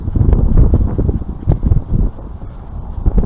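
Gusty wind buffets the microphone in low rumbling bursts at a lake, fairly loud and continuous with brief swells, no voices present.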